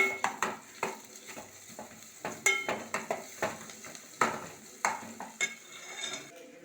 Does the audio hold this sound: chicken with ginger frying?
yes